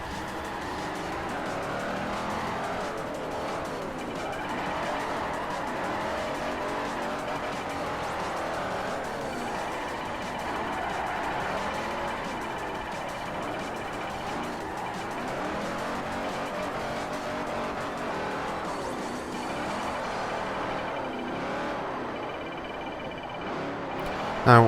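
Chevelle race car drifting and braking hard on a track in Forza Motorsport 4, with a continuous loud engine roar and repeated tire squeal and skidding through linked drifts.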